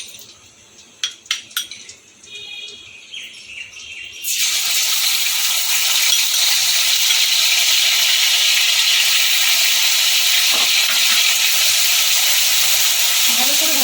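Ginger garlic paste drops into hot oil: a few light clinks, then a sudden loud, steady sizzle that hisses on close and unbroken to the end.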